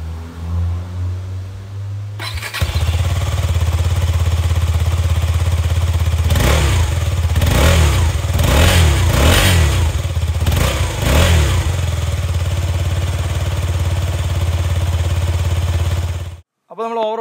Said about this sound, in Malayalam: അപ്പോൾ നമുക്ക് ഇനി ഇതിൻ്റെ എഞ്ചിൻ സൗണ്ട് എങ്ങനെയുണ്ട് കേട്ടോ, എക്സോസ്റ്റ് സൗണ്ട് ഒന്ന് കേട്ടോക്കാം